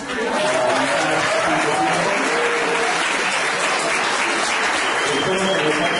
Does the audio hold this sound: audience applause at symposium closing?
yes